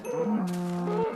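A single cow moos once in Minecraft, a clear, close, drawn-out bovine call lasting about a second against quiet game ambience.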